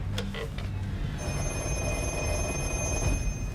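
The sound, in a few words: 1970s black telephone ringing via Viking system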